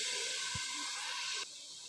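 Small chicken pieces sizzle in hot oil with a steady bright hiss, a soft thud near the start, then the hiss drops slightly in level toward the end.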